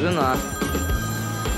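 A telephone rings in a Russian sitcom home scene, its repeated electronic tones running steadily under a man's and a younger voice talking over it.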